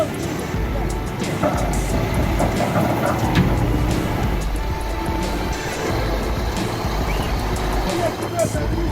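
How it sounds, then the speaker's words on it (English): A tractor straining to pull a Liebherr 734 out of an icy pit, heavy continuous engine rumble with rattling and clanking throughout, fairly close and steady, with voices over it. "The tractor strains, pulling the Liebherr 734 free from the icy pit."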